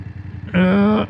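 A BMW F800GS motorcycle engine on an 8% uphill grade, opened up in 4th gear: a low rumble, then an abrupt loud rising tone that strains and holds steady for about half a second, heard up close with no talk.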